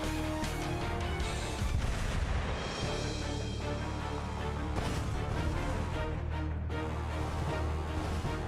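Explosions and battle blasts in the Azur Lane story Paradiso of Shackled Light, a dense, continuous roar of booms and crashes layered over dramatic game music, loud throughout with sharper bursts near the middle.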